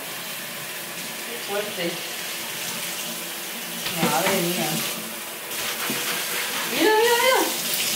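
Hot water runs steadily from a tap over something being washed in a sink, a continuous hiss and splash under close, excited talk.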